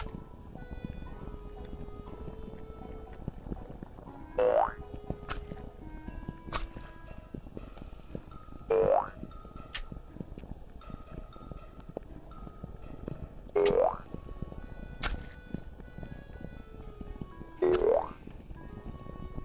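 Character jump sound in the video game Wizard Tower, a short bouncy boing-like tone that repeats four times at roughly four-second intervals over a faint, busy game background.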